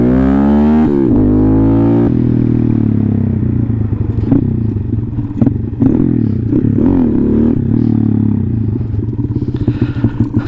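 A 180cc Honda motorcycle engine running while riding, a loud close steady drone that rises in pitch early on, then holds an uneven rumble with scattered rattles and clatter.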